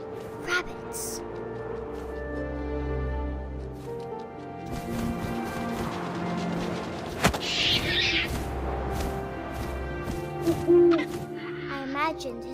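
An owl hoots in the video game What Remains of Edith Finch, with a few soft calls rising over steady wind-like ambience and low game music.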